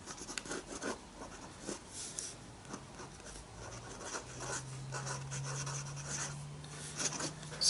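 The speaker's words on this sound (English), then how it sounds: "It's a pen. And it gives you very, very fine lines, just like if you were writing." A stainless steel pen draws very fine lines on paper, giving a soft, steady scratching and rubbing that continues across the whole stretch, close and quiet with brief pauses between strokes and a faint hum underneath.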